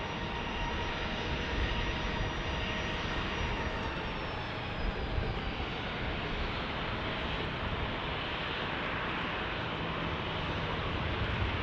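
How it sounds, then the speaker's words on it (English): A Boeing 737 jet airliner at San Diego International Airport gives off a steady, loud, broadband engine roar with a faint whine. The roar holds level throughout with no talk over it. "This is our 737 doing the California shuttle up to Oakland and back."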